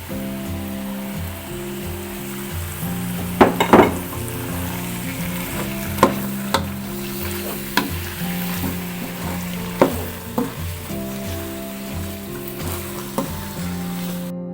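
A kilogram of beef fries and sizzles with spices in a pan for malbi, a steady close crackle with periodic scraping and clinking stirs, over soft background music.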